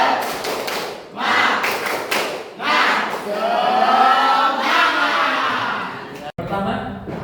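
A classroom of students claps a rhythmic 'tepuk semangat' routine, with sharp sets of claps interleaved with chanting voices, loud and close, ending in a brief pause before talk resumes.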